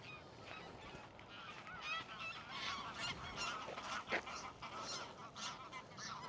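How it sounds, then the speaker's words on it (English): A flock of geese honks repeatedly at Sywell Country Park on a winter Christmas morning, overlapping calls coming from a moderate distance over a steady outdoor background. "There's all the geese."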